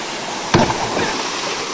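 Steady rushing water fills the clip, a continuous broadband wash of a stream pouring near Beeman Falls, with a brief splash or knock early on.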